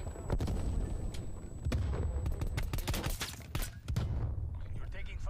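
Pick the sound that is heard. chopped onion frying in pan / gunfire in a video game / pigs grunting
gunfire in a video game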